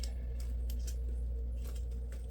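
Scissors snip through the stems of a bridesmaid bouquet in several quick, crisp cuts over a low steady background hum, close to the listener.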